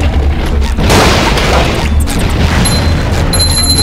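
Cannon fire booms in the PS2 game SpongeBob SquarePants: Battle for Bikini Bottom, a loud heavy blast followed by crashing clatter and bright ringing pickup chimes.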